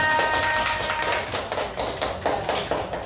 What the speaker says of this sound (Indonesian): Kasih tepuk tangan untuk kita.